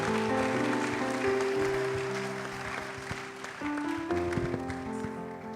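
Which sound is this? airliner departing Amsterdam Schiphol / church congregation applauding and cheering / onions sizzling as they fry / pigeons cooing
church congregation applauding and cheering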